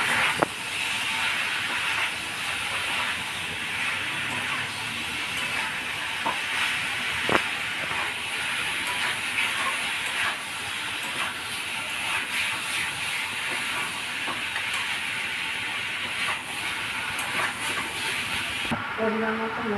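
Tomatoes go into a hot pan of chicken that is already frying, and the pan gives off a steady, moderate hiss of sizzling with scattered sharp ticks and clicks, ending in a brief clatter.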